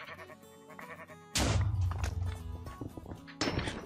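A sheep bleats in a Minecraft Cake Wars match, with game music, sudden thumps and hits, and another burst of action near the end.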